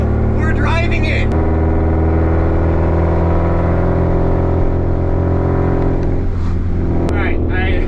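A Nissan 240SX drives on its freshly rebuilt engine, a loud steady drone cruising at low RPM from inside the cabin, with brief voices at the start and near the end.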